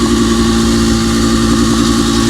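A two-wheel-drive Massey Ferguson 390 tractor of about 80 horsepower idles loud and close in a steady, even diesel rumble, hooked to a large 2250-gallon tanker, with no talk.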